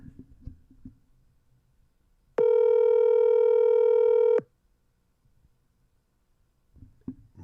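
A single steady electronic phone-line tone sounds for about two seconds during a call, loud and clear, with quiet talk before and after it.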